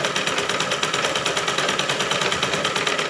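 A sewing machine stitches blouse pieces at a slow, even pace, giving a close, continuous rapid mechanical chatter with a regular pulsing rhythm and no voices.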